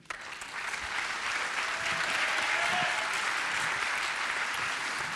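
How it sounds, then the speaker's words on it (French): Audience applause for six winegrowers from a wine-growing village at the 2022 Côte-d'Or agriculture awards ceremony, a steady, dense clapping that swells quickly and holds for several seconds, close and loud, with no talk over it. "on peut les applaudir"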